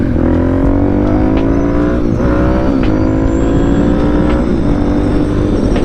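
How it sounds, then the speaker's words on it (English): A car passes close by on a road, a loud, sustained engine drone with shifting pitch that holds throughout, beside a rebuilt DRZ motorcycle with an RS4 Yoshimura exhaust. "There's a car coming."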